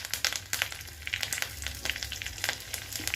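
Curry leaves crackle and sizzle in hot oil for tempering after cumin, a dense close spitting fry with sharp pops throughout, no voices.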